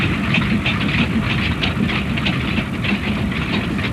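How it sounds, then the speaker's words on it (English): A 62-year-old steam locomotive hauls a train of even older wooden coal wagons across wetlands, giving a steady, continuous rumbling chug with no voices. "the 62-year-old engine and its train of even older wooden coal wagons made its way across the Hexham wetlands"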